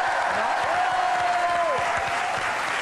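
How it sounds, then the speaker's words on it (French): A TV studio audience applauds on a French talk show, a dense, loud, continuous wash of clapping with a sustained musical tone running over it. "Je vous demande d'applaudir très fort Isabelle Mergaux."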